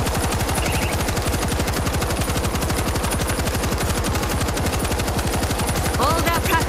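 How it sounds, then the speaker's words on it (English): Machine gun fire in World War Z during the Kamchatka chapter, with a loud, rapid, unbroken rattle of shots running the whole way through and a faint higher tone near the end. "Machine guns locked in."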